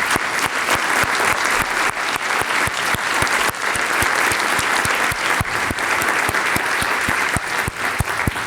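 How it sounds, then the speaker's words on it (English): A conference audience gives the organising team a big round of applause, loud, dense clapping that holds steady for several seconds, with sharp individual claps standing out near the microphone. "Let's give them a big round of applause."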